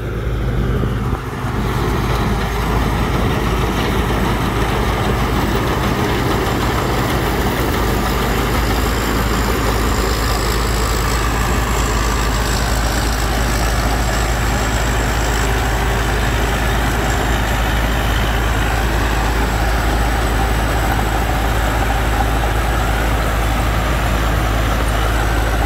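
A combine harvester engine drones steadily and loudly up close, a continuous heavy rumble with a mechanical whine that holds for the whole stretch.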